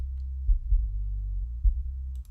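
Heavy, booming boosted bass below 50 hertz sits far forward in a mix, with deep sub-level thumps pulsing through and almost nothing in the upper range; loud, rumbling and continuous.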